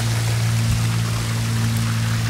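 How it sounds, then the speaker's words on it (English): Water from a zero-entry pool in the RiverTown community, St. Johns County, Florida, rushes and patters in a steady, even wash nearby, with a low hum beneath and no voices. "Just listening to the water, it sounds great."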